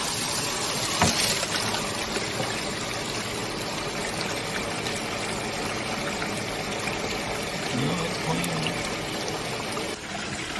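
A steady rushing wash of water runs through a gold wash plant as a scoop of material is poured in, with a brief heavier pour near the start and a continuous loud flow throughout.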